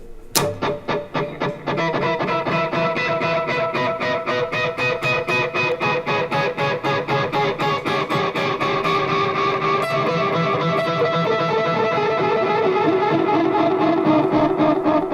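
Electric guitar run through two chained delay effects, one placed right after the guitar and one at the end of the chain, playing a fast, steady picked pattern whose repeats pile into a dense, slightly distorted wash that fills the whole clip.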